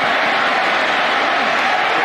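A large home football crowd at an Auburn versus LSU college game gives a dense, steady roar of murmuring voices, loud and unbroken, heard from within the stadium.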